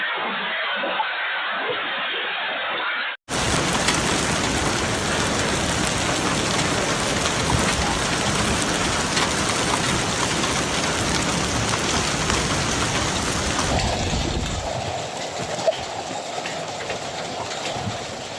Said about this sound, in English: Huge hailstones, violent thunderstorms, torrential rain, and powerful winds swept across multiple cities and rural areas